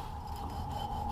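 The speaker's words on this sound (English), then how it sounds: "I'm using a hacksaw because I didn't have my knife on me." A hacksaw cuts through the roots of a corn plant with a steady, close rasping scrape over about a second, with no pauses or voices.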